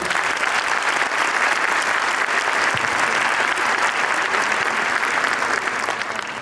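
Dense, sustained applause from a large audience at a Turkish association event in Denizli, loud and steady throughout without a break and easing only slightly at the very end.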